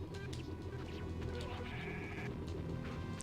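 Goat bleating in a retro video game, several short nasal cries over a steady background drone, with a voice talking faintly beneath.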